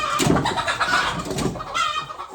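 Farm chickens clucking close by, a run of repeated short clucks and cackles in irregular bursts, fairly loud with no voices.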